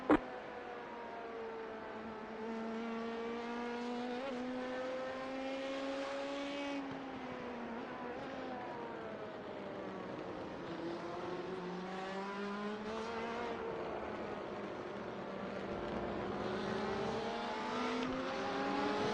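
Race cars lapping Sebring in the iRacing simulator, a continuous engine whine rising and falling through gear changes as the car accelerates and brakes, with other cars audible nearby and no talk.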